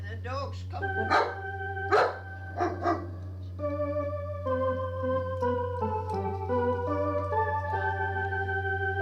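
Several dogs bark and yip in short bursts, some close and loud, mixed with people talking and a steady low electrical hum underneath.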